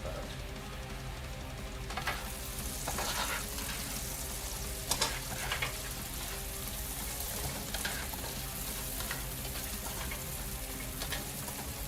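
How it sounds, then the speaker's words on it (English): Vegetables for vegan jambalaya sautéing in a pan over medium heat, a steady frying sizzle with occasional louder bursts of stirring and scraping, close and continuous without speech. "Saute these around until they're nice, sauteed."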